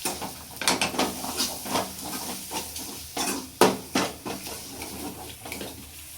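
Spoon scraping and stirring chili powder with onion-garlic masala in a pan for pav bhaji, giving a steady low sizzle broken by irregular metallic scrapes and clinks, close by.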